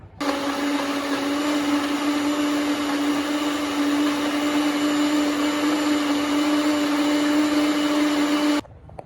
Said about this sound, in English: So now I'm gonna blend this up.